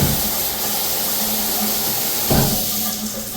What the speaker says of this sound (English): the water is immediately spraying further this way towards the chair.